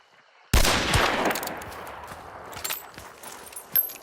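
A single loud gunshot cracks out in the video game Hunt: Showdown and rings off into a long fading tail, followed by faint footstep-like thuds and a small knock near the end.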